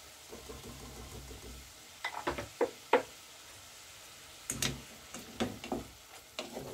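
Garlic fries quietly in a pan with chicken under a faint sizzle, broken by bursts of utensil knocks and scraping as the pan is stirred, with no talking.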